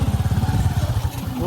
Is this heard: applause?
no